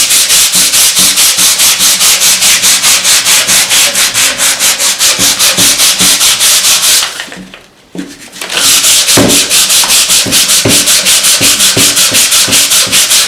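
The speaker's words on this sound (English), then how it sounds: "start sanding." Sandpaper rubbing over still-wet paint on a wooden piece being antiqued, a loud, close, continuous rasping scrub in rapid back-and-forth strokes, broken by a short pause midway before the sanding resumes.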